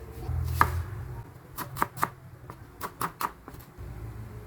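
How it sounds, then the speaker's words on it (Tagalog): A knife chops an onion on a cutting board in a home kitchen, giving about a dozen irregular, close, crisp cuts with short pauses between them. "Sibuyas guys, huwain lang natin to."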